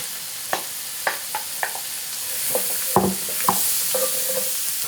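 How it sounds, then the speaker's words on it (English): Sliced cremini mushrooms sizzle in a pan with a steady bright hiss, punctuated by several soft utensil taps and stirring scrapes, close and without talk. "we're going to let this cook down until the mushrooms are cooked and almost dry after they've given up all of their liquid"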